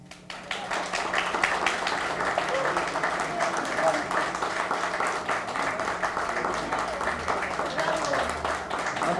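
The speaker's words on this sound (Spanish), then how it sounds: "Gracias por los aplausos para Harold." A café audience at a book presentation applauds the writer with sustained, moderately loud clapping from a small crowd, with a low steady hum beneath and scattered voices.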